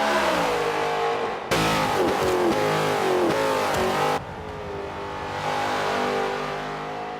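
A V8 race car engine revs hard through a lap, loud and close, with a sudden surge of high-revving roar in the middle as it accelerates, then settling back to a steady drone.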